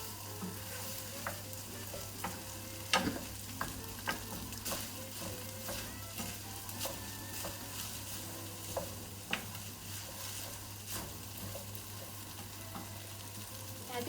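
Butter stirred through rice in a pan, a steady soft sizzle with scattered scraping clicks of the spoon, close and moderately quiet with no talk.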